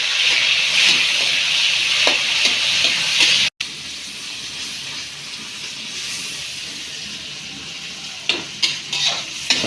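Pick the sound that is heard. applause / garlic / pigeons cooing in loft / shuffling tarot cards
garlic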